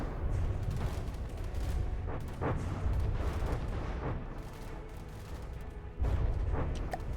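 Rumbling booms and scattered blasts as bombs from a medium bomber drop and explode in the naval combat game From the Depths, a steady loud low roar with a sharp burst near the end, no talk.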